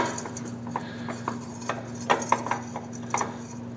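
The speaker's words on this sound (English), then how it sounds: "What I'm going to do here is stuff this with some chore boy." A Chore Boy scrubber is pushed into a metal exhaust breather baffle, giving scattered light metallic clicks and scrapes over a steady low hum, with no talking.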